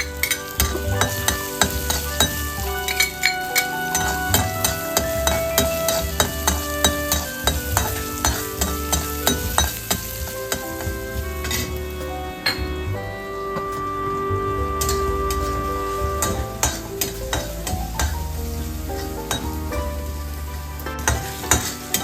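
Asafoetida, ginger and garlic fry in a pan, with a steady sizzle under sharp ticking and scraping stirring strokes throughout, close and without talking.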